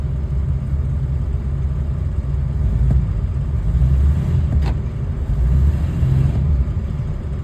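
A Ford Super Duty truck engine runs at a steady low rumble as it is shifted into drive, loud and close, with slight surges in the throb and a brief click partway through.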